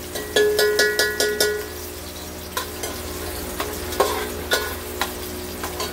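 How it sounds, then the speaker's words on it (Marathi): Onion frying in a pan for veg pulao, with a spoon knocking out a quick run of ringing metallic taps against the pan, then slower scrapes and clanks over a constant close sizzle and no talk. "आता हा कांदा 5 मिनिटे लाल होतपर्यंत भाजून घ्यायचा"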